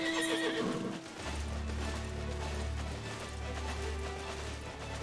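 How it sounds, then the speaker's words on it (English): Horses neigh loudly at the start, then hooves clip-clop steadily over a low rumbling bed of game ambience in the video game Final Fantasy XIV Endwalker, with no one talking. "Actually, just horses,"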